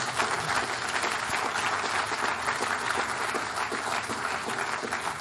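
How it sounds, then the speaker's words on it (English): An audience applauds for a paper's authors at a physics lecture, a steady, dense wash of clapping that holds evenly and fairly close for about five seconds, with no voices over it. "I said, applause for the authors."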